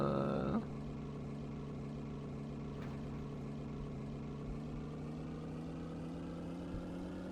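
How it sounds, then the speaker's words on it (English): Droning engine from the game Professor Layton and the Unwound Future, a steady low hum that runs continuously and fairly faintly, with no talking. "You're gonna have to listen to this horrible engine sound while I figure this out."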